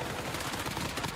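Video game gunfire rattles in a dense, continuous burst of rapid automatic shots, loud and unbroken for the whole moment.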